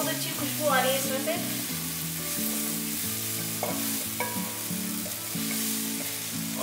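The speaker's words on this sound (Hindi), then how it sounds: "मिक्स कर देते हैं ये सारे मसाले।" Spices are stirred in a hot pan over a low flame, giving a continuous sizzle with soft scraping strokes of a spoon against the metal, close and steady.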